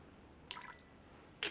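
Two small drips of water into Laphroaig Quarter Cask whisky, a brief soft one followed by a sharper one a moment later, close up in a quiet room.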